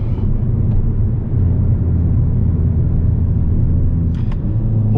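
A 2022 Hyundai Kona N is driven hard around a race track, its engine a loud, continuous, deep rumbling drone heard from inside the car with no talk over it.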